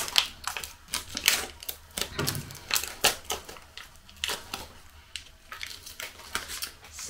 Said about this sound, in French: déjà le packaging c'est dur à ouvrir.